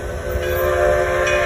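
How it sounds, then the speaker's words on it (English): A train passes in the distance at an old car festival in Greenfield Village, heard as a steady mechanical rumble with sustained horn or whistle tones held throughout, moderately loud and continuous with no talk. "There's the train up over there."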